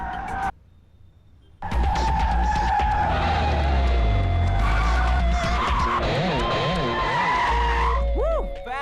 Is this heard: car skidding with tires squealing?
yes